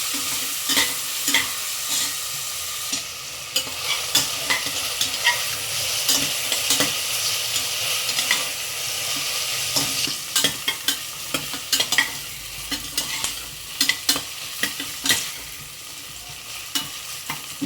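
Onions sautéing alone in a pan, with a steady crackling sizzle broken by frequent clinks and scrapes of a spoon stirring throughout, close and fairly loud.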